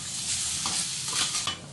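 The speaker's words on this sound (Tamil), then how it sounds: "இது நல்லா கொஞ்சம் சிம்லேயே வச்சு இதை வறுத்துப்போம்" A pan on a low flame sizzles softly while a spoon stirs and scrapes through roasting food, giving close, gentle frying crackle with intermittent stirring scrapes.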